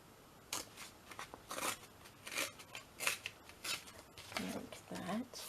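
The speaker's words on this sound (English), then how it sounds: "Again, you can cut it, but I'm just going to tear it for now." Paper torn by hand while crafting a large tag with a flip-down pocket: a series of quick, crisp ripping bursts in an uneven rhythm, close up, with someone speaking between tears.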